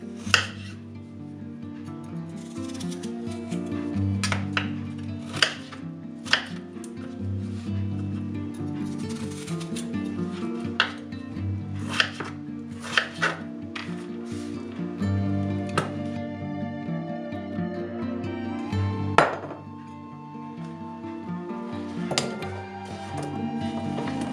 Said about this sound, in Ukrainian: На три порції беру 6 середніх картоплин та нарізаю довгими пластинками.